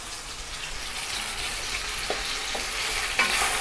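Chopped celery and fresh fennel frying with shallots in a pot for a pork stew, a steady close hiss of sizzling with a few soft stirring scrapes, no talk.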